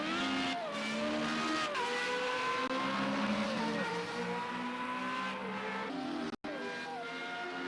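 Formula Renault 3.5 race cars with DRS howl around Monza in Project CARS, a loud, close high-revving engine note climbing through gears with sharp shift drops, while other cars drone alongside.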